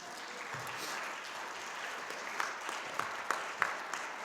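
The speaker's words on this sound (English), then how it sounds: "a round of applause for my wife." An audience gives a round of applause at a university award event, a steady wash of clapping that swells with a few sharper claps toward the end.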